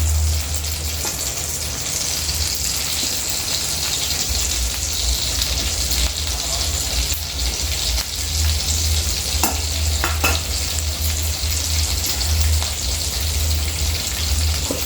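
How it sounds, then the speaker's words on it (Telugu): Chillies frying in a pan for mint chutney, a dense, even crackling sizzle that runs steadily throughout with a low background hum and a few faint clicks. "మిరపకాయలు కూడా మంచిగా వేయించుకుంటే టేస్ట్ మంచిగా వస్తుందండి చూడండి మంచిగా వేయిపోయినాయి మిరపకాయలు"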